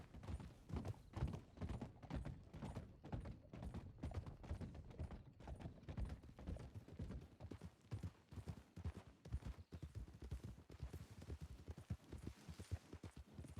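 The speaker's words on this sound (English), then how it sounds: "I heard horses riding somewhere." Horses riding in the WildRP roleplay video game, a steady run of hoofbeat clip-clops at moderate distance, continuous and fairly faint, with no talking.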